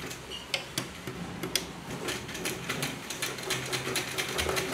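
A sewing machine stitching a dhoti salwar, running with a fast, steady ticking rhythm at close range and low volume, heard alone without talk.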